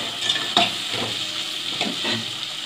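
Raw cashews frying in hot oil with browned onions for an egg curry, a bright, close sizzle broken by a few scraping stirs of a spoon against the pan, with no voices.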